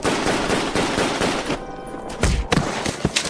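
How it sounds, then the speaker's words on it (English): Rifle gunshots in a tense radio drama fire in a rapid, loud volley of sharp cracks. A brief quieter lull follows, then more scattered heavy shots and thumps ring out close by. "What do you think you're shooting at?"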